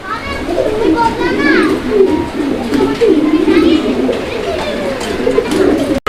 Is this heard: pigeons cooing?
yes